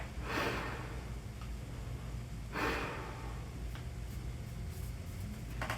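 Breathing through a WSYBB full face gas mask: two slow, hollow inhalations a couple of seconds apart, close and muffled over a steady low hum.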